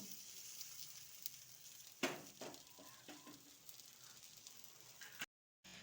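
Egg-coated eggplant slices frying on a flat pan, a faint steady sizzle with a few soft scrapes and taps as a piece is flipped, quiet and close.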